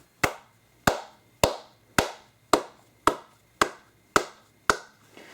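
Nine sharp hand claps at an even pace, close and loud, each separated by a short quiet gap, used to trigger a sound-activated color-changing strobe light.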